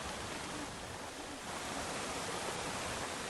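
Heavy rainwater rushes across a road in Dive Ghat after a downpour, a dense, steady broadband wash of flowing water that stays loud and continuous throughout.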